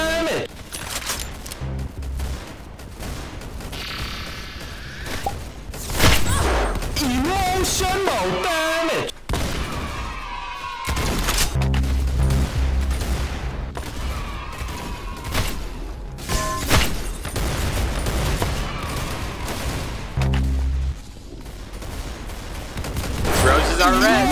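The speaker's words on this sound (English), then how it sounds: "That's some beautiful shooting right there." Rapid video-game gunfire crackles in bursts and volleys across the whole stretch, loud and close, with excited voices shouting over the shooting.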